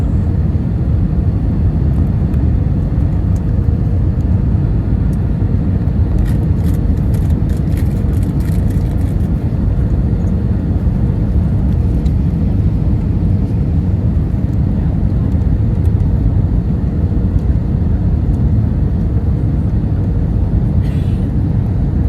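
Cabin noise from inside a Jetstar Airbus A320-200 as it lands on the runway, a steady loud low rumble throughout with brief rattling bursts midway, no talking.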